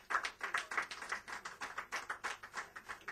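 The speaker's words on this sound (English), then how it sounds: "A round of applause again for team 2." Applause for a team at a startup quiz, a modest group clapping in distinct rhythmic bursts, fairly close and steady for a few seconds with no talk over it.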